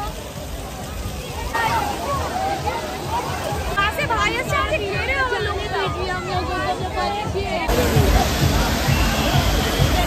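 Water poured from a bucket splashes and sloshes loudly at Nicco Park water park in 2024, amid a busy crowd of chattering, shouting voices, with a steady rushing wash running throughout.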